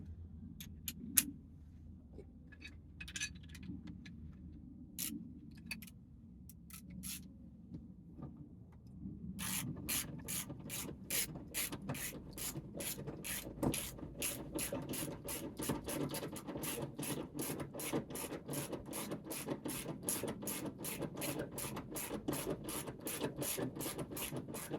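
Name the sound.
ratchet with 17mm socket tightening a bolt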